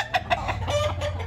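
Newly acquired roosters cluck in short, repeated bursts over a steady low background hum, fairly close and moderately loud.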